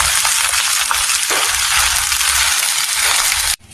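Fried rice with dried salted fish (tuyo) being stirred in a hot pan, a steady loud sizzling and scraping that runs continuously and then cuts off abruptly near the end.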